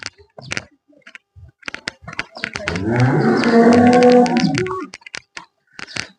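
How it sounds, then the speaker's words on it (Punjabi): A single loud, drawn-out cow moo close by, with scattered clicks and knocks before and after. "ਮਿੰਟੋ ਮਿੰਟੀ ਦੋਵੇਂ ਗਾਵਾਂ ਵੱਛੀਆਂ ਦੀਆਂ ਤੁਹਾਨੂੰ ਵਿਖਾਤੀਆਂ ਜੀ"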